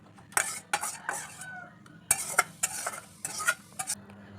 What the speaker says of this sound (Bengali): হয়ে গেছে কুমড়ো শাকটা দিয়ে আমি এটা ঢেলে নিচ্ছি থালায়